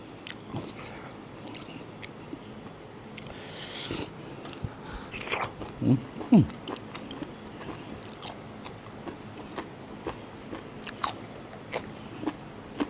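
Crunchy crying tiger grilled beef is chewed and bitten in a quiet room, with sharp crisp crunches scattered through, a cluster of louder bites near the middle.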